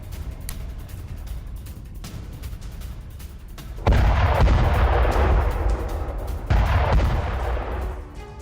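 Artillery fire from Ukrainian guns pounding Russian positions: heavy booming blasts with sustained rumbling, a big loud onset around midway and a second strong volley later, with no talk.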